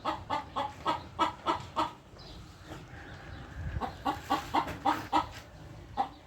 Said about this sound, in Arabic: هذه دجاجة